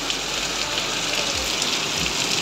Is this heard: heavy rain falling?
yes